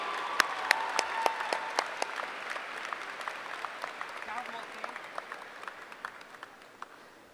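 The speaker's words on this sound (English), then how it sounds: "let's give him a round of applause for his passion for Murray State." Commencement audience at a Murray State University graduation ceremony applauding, a dense, sustained roar of clapping with sharp individual claps standing out, gradually thinning over about seven seconds, no speech over it.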